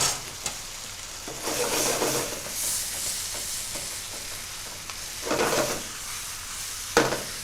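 Minced meat sizzles and fries in a pan, with a steady crackle broken by a few louder bursts as it is stirred around, close and alone without talk.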